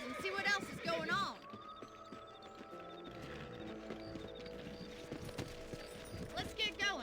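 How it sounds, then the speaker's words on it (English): Horses in the Red Dead Redemption video game clip-clop at a steady rhythmic trot, the hoofbeats close and clear under game music and a speaking character, with an occasional whinny. "Let's get back on the horses and see what else is going on."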